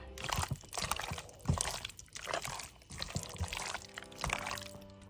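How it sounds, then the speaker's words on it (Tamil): Boneless fish pieces being mixed by hand into masala for an Andhra-style fish fry, quiet wet squelching and smacking in uneven bursts, close up with no talk. "மீனை மசாலாவில் போட்டுட்டு நல்லா அழகாக இதை கலந்துக்கலாம்."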